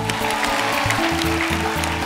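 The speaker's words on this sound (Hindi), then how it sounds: "इस डेडिकेशन के लिए जोरदार तालियां" A television studio audience applauds a dance performance, a dense, even patter of clapping over steady background music, loud and unbroken for about two seconds.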